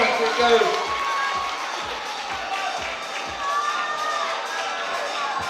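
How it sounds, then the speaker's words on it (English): Spectators at an indoor bouldering competition grand final cheer and shout steadily for a climber on the wall. Commentators talk continuously over the crowd noise. "Come on, Max, he's getting the crowd going."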